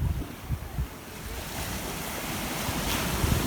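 Surf rolls in at a tiny secluded south-facing beach in France beside a caravan park, a steady near wash of waves under gusty wind buffeting the microphone, with no voices.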